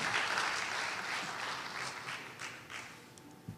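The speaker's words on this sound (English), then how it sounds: "Let's give her one more big round of applause for this" Fairly faint, steady applause from an audience after a dancer's performance, a diffuse wash of clapping that fades gently toward the end.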